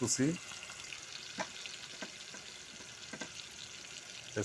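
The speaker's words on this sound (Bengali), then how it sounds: "তো সর্বপ্রথম দিয়ে দিলাম তেল, তারপর দিলাম পেঁয়াজ" Chopped onions fry in hot oil in a pan, giving a soft, steady sizzle with a few scrape and stir clicks, fairly quiet and close.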